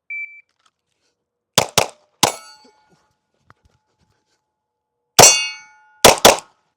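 Glock Gen 6 pistol shots and metallic clangs of rounds striking steel targets: a lone beep, then sharp bursts in quick pairs with ringing impacts, a pause, and another cluster of shots and steel hits, loud and close.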